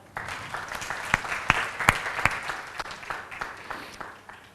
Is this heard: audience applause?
yes